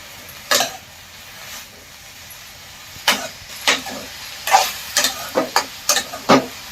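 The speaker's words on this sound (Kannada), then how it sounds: "ನೋಡ್ರಿ ಈ ಥರ ನಾವು ಫ್ರೈ ಮಾಡ್ಕೊಬೇಕೈತಿ" Fenugreek greens (methi) frying in oil in a pan, with a soft sizzling bed broken by a run of quick, rhythmic spatula scrapes and stirs that grow more frequent toward the end.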